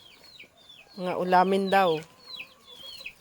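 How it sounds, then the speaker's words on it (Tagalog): Chickens at a mountain home in the province give a loud, drawn-out run of clucks mid-clip, with softer chirps before and after and a voice speaking briefly. "O yan, mga manok, oh."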